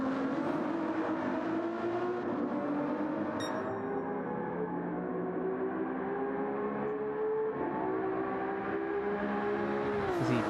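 A Ferrari endurance race car at night at Le Mans, its engine roaring steadily with a sweeping pitch as it powers away, loud and continuous over distant crowd and track ambience.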